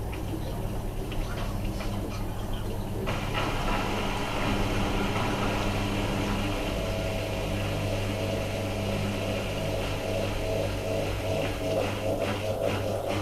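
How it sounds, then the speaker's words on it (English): A Miele W5748 washing machine's drain pump pumps water out during a service cycle, a steady, even mechanical hum and rush that holds unchanged throughout, with no talking. "That will pump the water. That will drain the water out."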